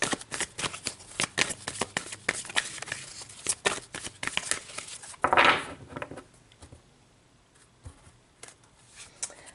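Tarot cards are shuffled close by in a quick run of crisp riffling flutters and taps, ending in a denser burst before fading to a few soft handling sounds.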